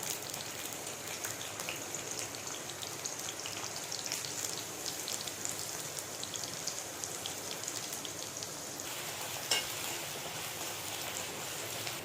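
Green chillies and onion sizzle in hot oil for a mutton brain curry, a steady dense crackling hiss filling the whole stretch, close and even, with no talking.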